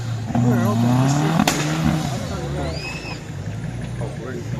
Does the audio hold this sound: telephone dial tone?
no